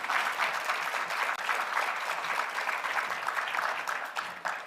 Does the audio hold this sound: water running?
no